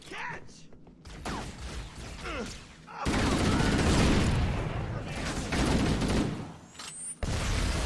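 Bursts of gunfire and booming combat in the video game Halo: Combat Evolved, with a quieter opening, then dense, loud sustained shooting and explosions that drop off sharply near the end, with someone talking at points.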